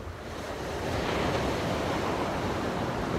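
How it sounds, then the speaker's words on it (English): Ocean surf roaring onto the shore on a cold January morning, a broad, steady rushing wash that swells slightly, close and loud with some wind noise, no voices. "the roar of the ocean beside me"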